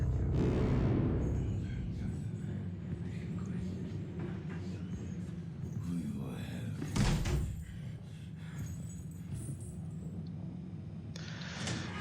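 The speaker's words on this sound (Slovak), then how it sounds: "počul som buchnutie dverí" A door slams shut in the Outlast horror game, one heavy thud about seven seconds in, set within a continuous low ambient rumble and game noise.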